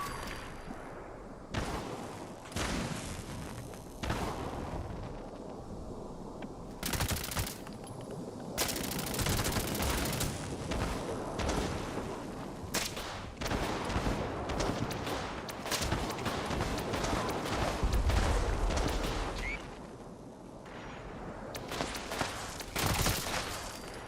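Sustained automatic gunfire and rapid shots in the video game Fallout 76, loud and dense in long bursts with brief gaps, nearly continuous across the span.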